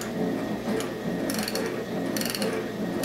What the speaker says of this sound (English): I think you can hear the ratchet there, and it's operating properly, ratchet, and then turns the screw.